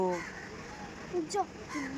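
Crows gathered in the morning caw several times, fairly faint and somewhat distant, while a person talks quietly.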